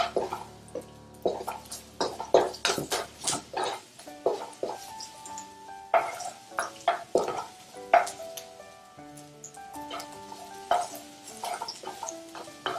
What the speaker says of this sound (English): as soon as that oil gets hot, we're going to add the garlic and fry it for about 20 seconds